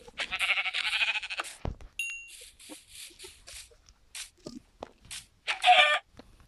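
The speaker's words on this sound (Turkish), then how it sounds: "Şimdi ilk önce şu koyunları öldürelim." Game-style sheep bleats sound in a few short nasal bursts as the sheep are attacked in a video game, with some small clicks and thumps between them.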